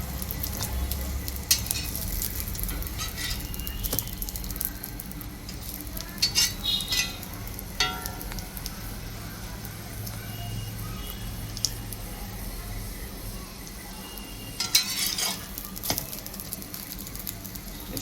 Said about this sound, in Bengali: আমাদের এটাকে একটু ভালোভাবে ভেজে নিচ্ছে আমার ভাই